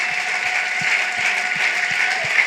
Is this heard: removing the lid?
no